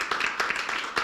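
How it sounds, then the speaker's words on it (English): Audience clapping for presenters at a workshop session, a brief patter of hands over about a second, moderately close, with no talk over it. "I want all of us to clap for them again"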